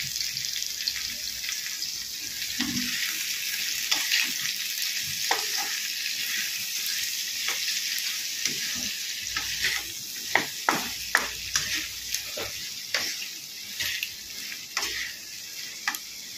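Pumpkin, ridge gourd and slit green chilies fry together in a pan for a vegetarian ghonto, giving a steady close sizzle with rustling stirring and a run of sharp utensil clacks toward the end.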